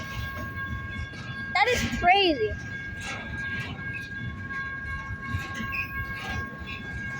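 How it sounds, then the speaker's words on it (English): BNSF intermodal freight train rolling past at a meet with another train, a steady rumble of cars with a loud multi-note horn blast partway through, while someone speaks briefly over it. "And there's like another train over there."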